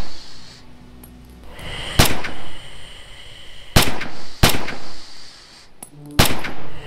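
Rifle shots crack out at a firing range in the World War II game Red Orchestra 2: Heroes of Stalingrad, four loud single reports spaced a second or two apart, each with a short ringing tail.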